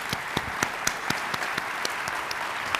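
A conference audience applauds its center directors at a healthcare quality event, sparse, evenly spaced claps that sound thin and moderately distant, steady for a few seconds.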